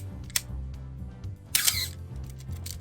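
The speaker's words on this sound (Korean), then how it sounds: "캐논 수동기에 고질병인 셔터 스퀵 증세가 있었습니다." An old Canon A-1 manual film camera with the common Canon shutter-squeak fault, its hardened internal lubricant making the shutter sound thin and stunted, fires twice in short, sharp bursts against a low background hum.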